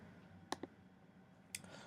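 A computer mouse clicks while someone works in gear-design software: a pair of quick clicks near the start, then one more a second later, crisp and close against a quiet room hum, with no talking.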